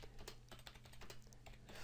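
Rapid, steady clatter of keys being pressed on a computer keyboard while typing a PowerPoint 2010 slide, continuous and close, with no voice.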